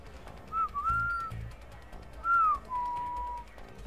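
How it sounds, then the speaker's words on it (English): A character in the video game A Way Out whistles innocently in two rising-and-falling phrases. The whistle is clear and mid-level over a quiet background with soft thuds, and no one talks. "Listen to the innocent whistle."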